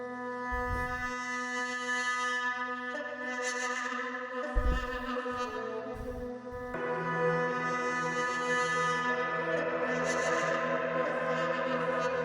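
A chopped duduk sample rendered together in FL Studio for a dark jersey club beat plays as sustained reedy, mournful tones that shift pitch in sections, with a few low thumping hits and heavy echo, no voices.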